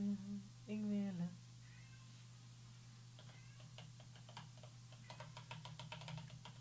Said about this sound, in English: my cat is suddenly very needy